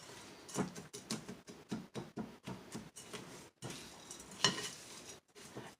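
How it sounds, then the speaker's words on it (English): Butter is stirred into a strawberry crunch crumble in a bowl, giving repeated soft scraping and crumbly rustling strokes at an uneven rhythm, close and fairly quiet. "you want to evenly combine, mix well, mixing the butter"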